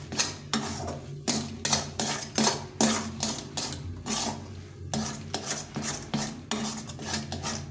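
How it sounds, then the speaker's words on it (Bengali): A spoon is worked through semolina in a metal pan while cooking sooji barfi, giving rhythmic scraping strokes roughly every half second with clinks against the pan and a faint sizzle beneath. "নেড়ে নেড়ে শুকিয়ে নিতে হবে, যেন একটা আঠা আঠা ভাব আসে।"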